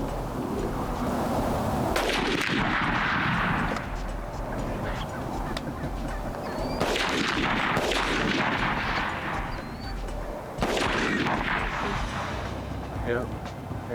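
A rifle fired at a hog during a night hunt with an AccuFire setup: a few loud, sharp gunshot blasts spaced several seconds apart, each with a rolling outdoor tail, with people talking in between.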